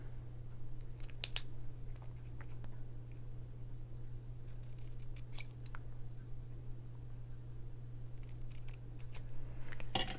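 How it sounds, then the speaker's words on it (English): Scissors snip through patterned craft paper to trim a banner strip for a handmade card, sounding as a few quiet, brief cuts spread over a steady low hum, with no talking. "I'm just cutting it off so that I can make like a banner on it"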